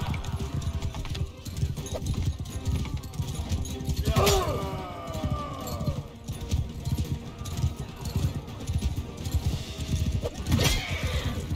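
Horse hooves clip-clopping in Mount & Blade 2: Bannerlord arena fights, with a couple of sharp whinnies and scattered clashing effects over a busy, continuous background.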